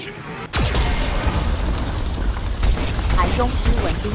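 A Geth cannon fires in the video game Mass Effect Legendary Edition: a sudden heavy boom and blast erupts, followed by a rumbling, crackling explosion tail with further rumbles and bursts. A voice speaks over it.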